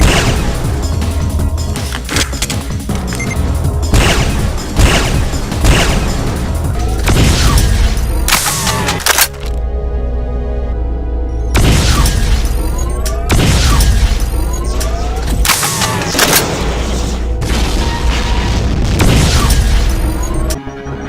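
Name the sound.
Demon Tech Devastator shots exploding, video game Doom mod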